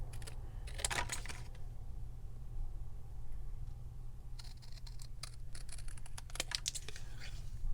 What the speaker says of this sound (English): if I'm cutting up something like this where the cardstock is kind of thick